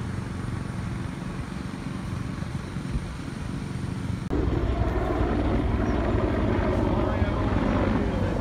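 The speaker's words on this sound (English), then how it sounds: "Helicopters flying around." Helicopters flying around overhead near an RV, a steady broadband rotor and engine roar that grows louder and fuller halfway through, with no clear voices.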